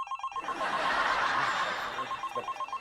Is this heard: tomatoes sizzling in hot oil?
no